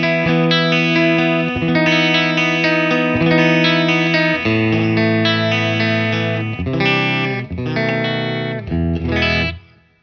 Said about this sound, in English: Here's my clean tone on the brighter channel